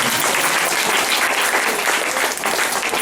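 A church congregation applauds loudly and steadily in a dense, continuous wash of clapping that lasts throughout.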